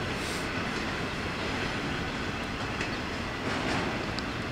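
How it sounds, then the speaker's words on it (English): A train rolls past at steady distance, a continuous broadband rumble and rush with faint clatter, fairly quiet and unbroken, with no talking. "Bye bye train."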